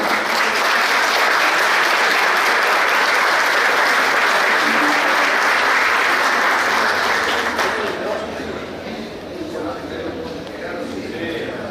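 Audience applause welcoming a speaker at an event, a loud dense burst of clapping from many hands that holds steady for several seconds and then fades to scattered claps and murmuring.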